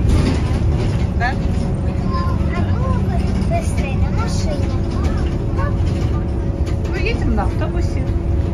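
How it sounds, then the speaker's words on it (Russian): Passengers ride inside a city bus, its engine rumbling steadily beneath close conversation between a parent and child, with occasional rattles and road noise throughout. "поэтому мы едем на автобусе"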